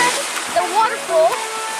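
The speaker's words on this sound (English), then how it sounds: "we have arrived at the waterfall" Steady broadband roar of a colossal waterfall, heard up close, runs continuously beneath a person talking over it.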